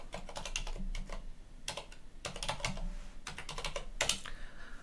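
A password is typed on a computer keyboard: bursts of quick, close key clicks, a pause around the middle, then more rapid keystrokes ending with a firmer press.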